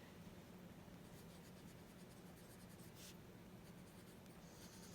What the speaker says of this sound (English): And I'm just writing in,